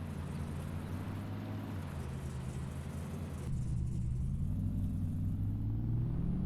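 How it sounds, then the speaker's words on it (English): An old truck engine in Farming Simulator 25 rumbles steadily, a loud low drone close by that deepens and swells partway through as the truck drifts and pulls, with no voices over it. "The old truck, man, it likes to be drifted."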